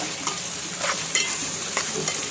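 A curry with prawns (pachi royalu) being stirred in a pan, with soft scraping strokes every half second or so over a steady background sizzle, close and moderately loud.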